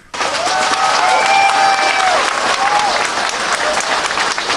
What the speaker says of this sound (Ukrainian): Активісти майдану на Одещині зустріли нового начальника оплесками.